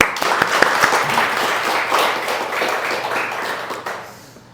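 Church congregation clapping together at a founding anniversary Sunday service, a steady burst of applause filling the room for several seconds before tapering off.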